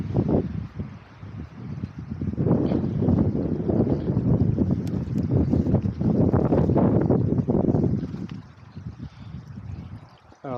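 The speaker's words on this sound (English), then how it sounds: "the wind is getting back up because I'm getting higher in elevation" Wind gusting across an exposed hillside at rising elevation on Blakey Ridge, a steady broadband rush battering the microphone, swelling and easing over about ten seconds with no talking.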